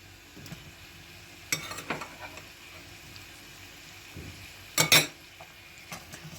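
Tomato paste being stirred into frying meat and onions in a pan while cooking macaroni sauce; soft, sparse spoon scrapes and a few louder clinks over a faint, low sizzle, with no talking.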